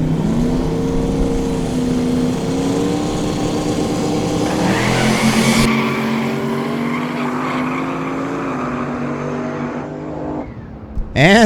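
Drag race cars at a no-prep dragstrip, a Fairmont and an S10, roar hard off the line together, engines climbing in pitch as they accelerate away, a loud sustained blast that fades toward the end.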